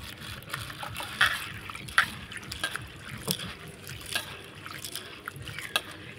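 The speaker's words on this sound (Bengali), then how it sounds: "এবার আমি সাবুটাকে জল দিয়ে ধুয়ে নেব।" Sago pearls being rinsed with water in a bowl, giving soft continuous sloshing and trickling with a few light splashes, fairly quiet and close, with no talking.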